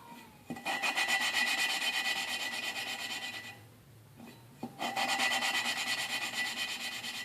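Valve lapping on a 1995 Enfield Bullet 500 engine, a close gritty rasp of the valve being spun back and forth on its seat, running in two long bursts split by a brief pause and a couple of sharp taps.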